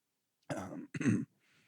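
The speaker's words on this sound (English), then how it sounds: "I was clearing my throat." A close, gravelly throat clearing in two short bursts, fairly loud against an otherwise quiet background.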